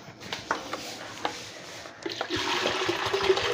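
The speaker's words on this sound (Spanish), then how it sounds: "Y le vamos a echar como 2 litros de agua" About two litres of water poured into a cooking pot for lemon granita syrup, a steady close gush and splash that swells louder partway through, with a few small knocks early on and no talking.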